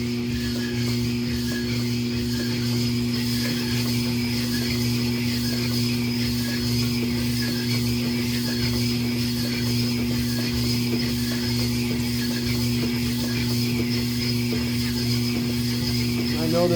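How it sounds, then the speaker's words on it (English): A shop-made manual honing machine working an engine block cylinder, giving a steady, continuous mechanical whirr with a low hum and faint rattling throughout, close by and without speech. "I'm going to run the machine"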